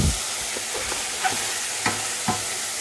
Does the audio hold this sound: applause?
no